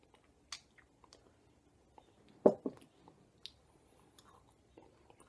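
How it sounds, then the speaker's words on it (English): Honey-cured chewing tobacco is chewed up close, with faint wet squishing and scattered soft clicks in an irregular rhythm, then a louder cluster of bites near the middle in an otherwise quiet room. "as I chew on this, what do I get?"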